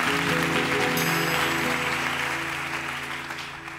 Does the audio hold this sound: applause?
yes